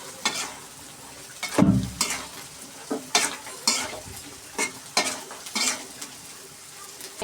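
Steamed pumpkin is stirred with sugar in a pan, a spoon or spatula scraping and clinking against the metal in repeated strokes over a faint sizzle, close and fairly quiet, with no talking.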